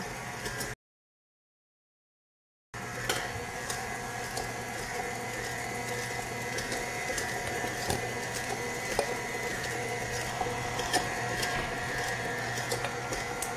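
Electric mixer running steadily on medium-low through oatmeal cupcake batter, a continuous mechanical whir with a motor hum, close and alone after a brief silent gap at the start.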